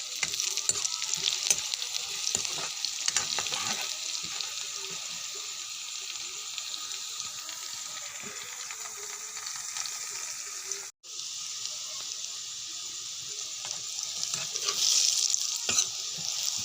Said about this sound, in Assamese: এয়া তেলটো পিঁয়াজটো পকি গ'ল। এতিয়া অকণমান ৰেড চিলি দি দিব লাগিব।